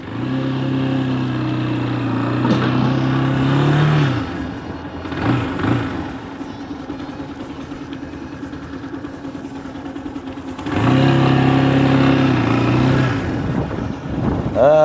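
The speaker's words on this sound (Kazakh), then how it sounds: "Алғашқы скороспен жүріп көрейік." A bamX X5 motorbike pulling away in first gear, its engine droning loudly, easing off mid-ride, then rising again, with wind buffeting the microphone.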